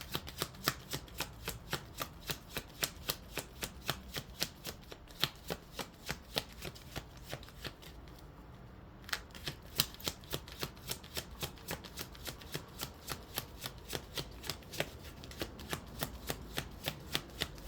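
A deck of cards is shuffled over and over, giving sharp rhythmic riffling bursts at a steady pace, with a short pause partway through; quiet, close and with no voices.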